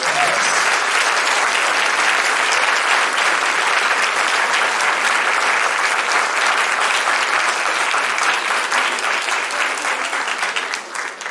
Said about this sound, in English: Can we have a round of applause for their